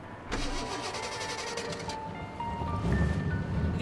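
A car engine cranks and catches in The Saboteur, a WWII-era game, with a rapid rattling start followed by a steady idle and rising revs, fairly quiet and with no talk over it.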